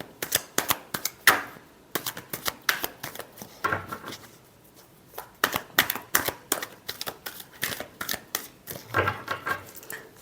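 Tarot cards are shuffled by hand in a series of quick riffling bursts with short pauses between them, close and crisp, without speech.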